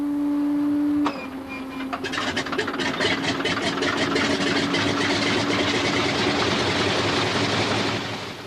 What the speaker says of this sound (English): The sight and sound of the past, a Pratt & Whitney air-cooled radial engine. It is powering a de Havilland Beaver